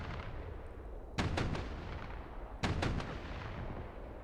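Main battle tank cannon fire in the combat simulator DCS World Combined Arms, two heavy booming shots each followed by a quick rattling echo, heard over a steady engine rumble with no talking.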